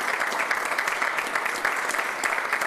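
A studio audience claps steadily for a futsal team just promoted to Serie B, a dense, even applause filling the whole stretch with no voices on top.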